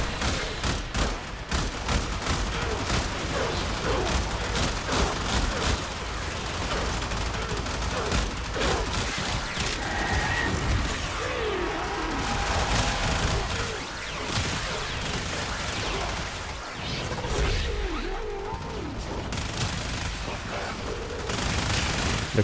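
Rapid, dense gunfire from the Bursten weapon in the video game Warframe rattles on without pause, layered with explosions and combat effects.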